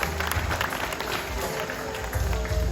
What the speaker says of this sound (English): Well, let's give her a round of applause for outsmarting Pat.